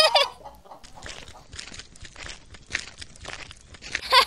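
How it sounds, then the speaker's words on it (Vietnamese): A flock of cartoon chickens clucks and cackles busily, a close, continuous stream of overlapping bird calls with rustling and crunching underneath. "Một đàn gà béo mẩm."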